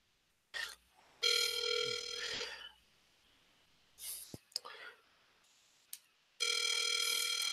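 A landline telephone line plays bright, buzzy electronic tones heard through a handset, in two long bursts separated by a quieter gap with soft clicks and brief murmured speech.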